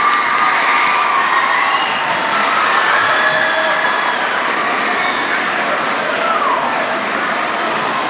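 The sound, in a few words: audience applause and cheering at school Veterans Day assembly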